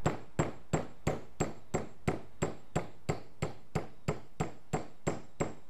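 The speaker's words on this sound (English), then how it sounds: "I've just modified a little flat-bladed screwdriver, turned it into a pin punch, and it works perfectly for this." Steady metallic hammer strikes on a flat-bladed screwdriver modified into a pin punch, driving roll pins out of a housing: about fifteen sharp ringing taps at an even pace, close and clear, with no talk.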